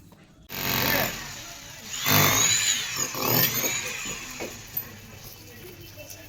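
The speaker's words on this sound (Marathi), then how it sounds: "छोटी ड्रिल मशीन आहे" A small drill machine breaks apart a house wall during demolition in a narrow lane, with bursts of loud grinding and hammering separated by short pauses, fairly close, and a faint voice in the background.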